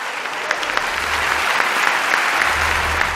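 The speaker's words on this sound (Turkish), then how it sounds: "Teşekkür ediyorum, alkışlarla alıyoruz." A studio audience on the Turkish TV talent show Yetenek Sizsiniz Türkiye applauds loudly and continuously, a dense clapping roar over a faint low rumble.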